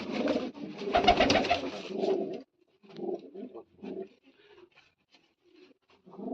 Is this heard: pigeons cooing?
yes